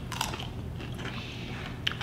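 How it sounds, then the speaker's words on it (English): Biting into a crunchy raw cucumber-like vegetable from a raised garden bed, with close, sharp crunches at the start and end and chewing noises in between. "that outer skin just has a nice crunch"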